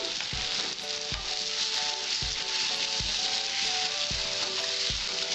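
Raw mango pieces seasoned with turmeric and salt fry in a pan for a Bengali mourala fish sour dish, giving a steady, loud broadband sizzle throughout. Low thumps recur about once a second as the pieces are stirred, and no one speaks.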